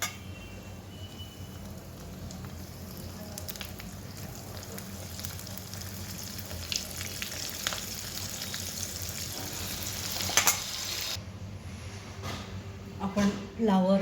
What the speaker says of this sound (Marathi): आता हे कोट केलेला फ्लावर आपण तळून घेणार आहे